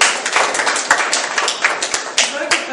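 Journalists applauding at the opening of a workshop, a steady round of many hands clapping close by with no one talking over it, lasting about three seconds.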